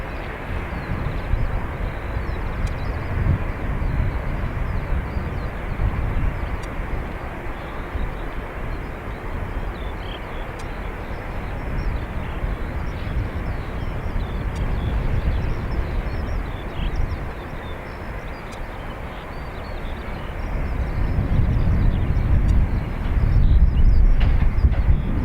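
A jet airliner taking off from runway 28 right at Dublin Airport, heard from a distance as a continuous low engine roar that holds steady and then swells louder toward the end, with no talking.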